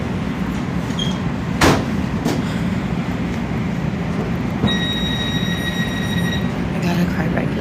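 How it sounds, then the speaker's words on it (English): LA Metro J Line train doors sliding shut with a sharp thud, followed by a steady electronic chime tone, all over the constant rumble of the railcar. "Please stand clear. The doors are closing."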